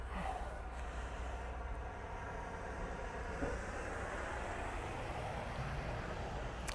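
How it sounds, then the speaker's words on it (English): An easyJet airliner departs Manchester Airport bound for Malaga, its engines a steady, distant roar that holds evenly throughout without a break. "So coming out, we've got the Easyjet to Malaga."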